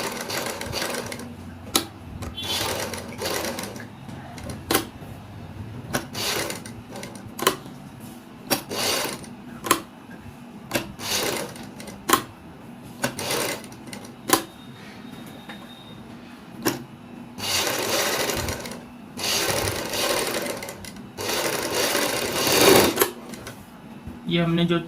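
A sewing machine stitches a peacock-style neck design on a kurti or suit, running in repeated bursts of rapid needle clatter separated by short pauses, close and clear, with someone talking between runs.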